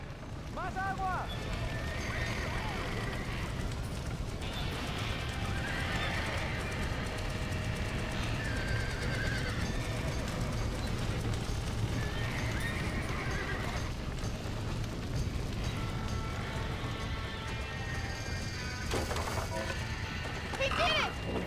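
Horses in the video game Red Dead Redemption snort and neigh over steady clip-clop hooves, while shouting voices and other game sounds run throughout.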